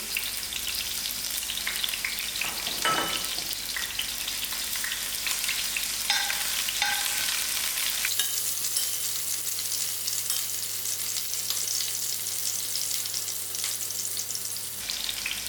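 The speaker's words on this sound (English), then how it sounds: "And I'll put in my onions to fry." Sliced small onions fry in a pan with a steady, close crackling sizzle throughout, a few brief stirring clatters early on, with no talk.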